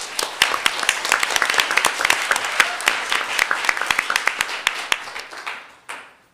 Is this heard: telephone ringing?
no